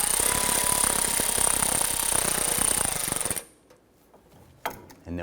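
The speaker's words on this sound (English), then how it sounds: "I'm going to go ahead and just snug down our oil pan gaskets." A ratchet snugs down the oil pan bolts on a 1993-1997 Ford Ranger, a loud, rapid clicking that runs for about three seconds and then stops, leaving a couple of faint clinks and a soft knock.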